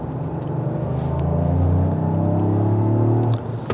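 A hydrogen-engine Toyota Corolla with a 1.6-litre three-cylinder turbo, rated 272 horsepower, drives along with a steady low engine drone and rumble that swells slightly as it pulls, heard from inside the cabin with no talking.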